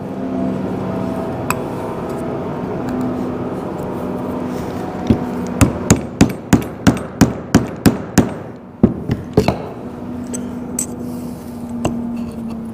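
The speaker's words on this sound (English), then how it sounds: "I hammer that wedge all the way down" A hammer striking a wedge during spur making, about ten sharp, evenly spaced metallic blows in a quick run, then a few scattered taps, over a steady background hum.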